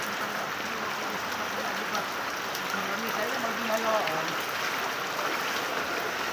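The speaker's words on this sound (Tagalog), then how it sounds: "Ganong katindi. Lakas ng agos." Strong floodwater current rushing down a flooded village street, a steady, dense roar of moving water that stays constant throughout, with faint voices in the background.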